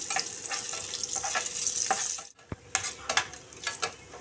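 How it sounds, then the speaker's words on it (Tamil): Cashews sizzle softly in a pan up close as they fry golden brown, broken by a brief pause and several scraping stirs. "நல்லா கோல்டன் ப்ரௌன் வர வரைக்கும் இதை நல்லா வறுத்துக்கலாம்."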